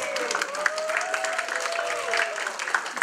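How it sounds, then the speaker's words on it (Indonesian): Audience applause at a lecture session of an Indonesian convention, clapping steadily for BPPG Semarang Plus, with a voice faintly talking over the dense crowd sound throughout. "Tepuk tangan buat BPPG Semarang Plus."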